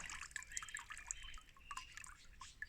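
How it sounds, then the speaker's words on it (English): Water drains and trickles out of the bottom of a pot of saturated compost, a steady close-up patter of drips and small splashes with no voices. "what you want that to do now is the water to drain out like that."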